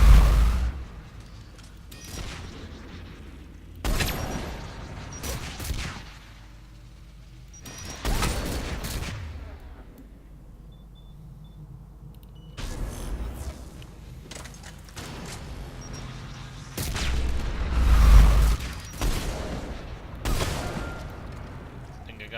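Heavy blasts and bursts of gunfire pound through a firefight in the video game Mass Effect 3, with repeated thudding explosions from incoming rockets spread over the scene and occasional voices talking between them.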